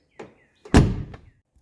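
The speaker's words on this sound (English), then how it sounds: "Look how nice that door closes now." A 1982 Mercedes 300D car door closing after new door strikers are fitted: a light tap, then one solid, close-up thunk as the door shuts cleanly, with a faint click trailing after. No one speaks.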